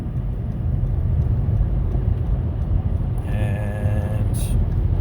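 A car driving a snowy highway on Nokian WRG4 asymmetrical radial tires in a snowstorm: a steady, loud rumble of road and tire noise with engine drone, continuous throughout, plus a faint whine near the end.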